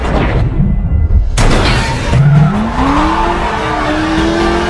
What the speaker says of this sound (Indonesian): mengerem dadakan sampai membuat mobil mereka terguling